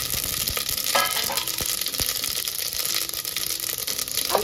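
Mustard seeds and cumin sizzling in hot oil for pav bhaji, with a dense continuous crackle and sharp popping bursts throughout, close and fairly loud with no talking.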